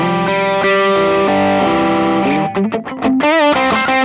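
An electric guitar plays through an Exotic Effects BB Preamp pedal with the gain turned up, producing loud, sustained overdriven chords and then a quick run of distorted picked notes with a wavering bend near the end.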